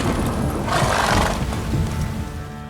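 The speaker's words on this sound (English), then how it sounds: "Whoa there, Roach" A horse whinnies loudly in The Witcher 3 video game, a single drawn-out neigh rising and falling over about a second amid background game ambience, with no talk over it.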